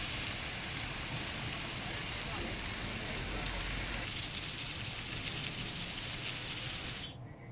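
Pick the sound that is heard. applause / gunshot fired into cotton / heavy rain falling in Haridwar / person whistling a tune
heavy rain falling in Haridwar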